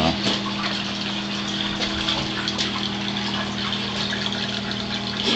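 A sump pump draining water from a flooded basement runs steadily, a loud continuous hum with rushing, gushing water close by, unbroken throughout.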